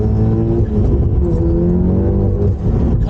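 A VW Golf GTI Mk7 with a big turbo makes a full-throttle pull, its engine note loud and close, rising steadily as it accelerates through the run.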